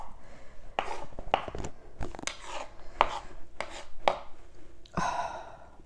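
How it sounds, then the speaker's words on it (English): A knife chops an onion thinly on a board: a run of crisp, uneven close chops with brief pauses between strokes. "We'll start with just chopping our onion, and you want the onion to be thin"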